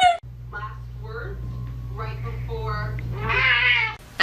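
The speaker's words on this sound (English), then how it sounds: "Now this is a Turkish Angora cat." Turkish Angora cat meowing repeatedly at close range, a series of short mews building to a longer, louder yowl, with a person talking alongside.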